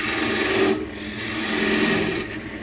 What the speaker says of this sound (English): Let's get our gouge out and